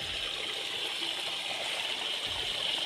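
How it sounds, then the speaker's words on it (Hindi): Water drains out of a flooded rice paddy with a steady rushing, gushing flow. It is continuous and fairly close, with no pause. "यहाँ से पानी सब पूरा खाली होगा, देख सकते हो आवाज़ भी आ रहा होगा यहाँ से।"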